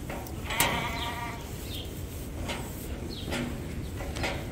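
Sheep and ram lambs on a farm bleating several times, a few distinct bleats scattered over a steady rough background, fairly close and moderately loud.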